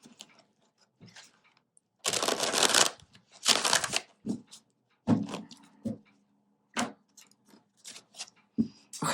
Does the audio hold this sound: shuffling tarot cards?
yes